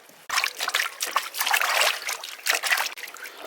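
Water pours into a cooking pot holding a beef head set for blanching, a close, steady trickling and splashing that lasts a few seconds with no voices.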